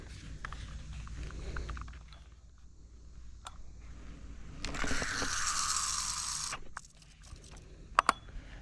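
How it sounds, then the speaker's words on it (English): Vintage Zebco 33 fishing reel with its bite alert clicker engaged, a ratcheting click as line pays out beside a creek, with a louder rushing stretch midway and a couple of sharp clicks near the end. "this one has a bite alert switch on it. You engage it and it just lets line come out."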